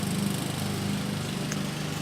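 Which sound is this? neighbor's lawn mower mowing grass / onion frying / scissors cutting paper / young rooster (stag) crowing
neighbor's lawn mower mowing grass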